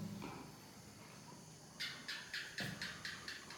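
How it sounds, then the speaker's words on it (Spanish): Faint repeated chirps from a small bird or cricket outside an abandoned house, several short bursts in a loose rhythm, heard at a distance over a quiet outdoor background. "Ese es un pajarito, un grillo,"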